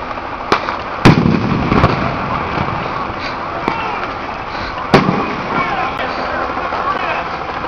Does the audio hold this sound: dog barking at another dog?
no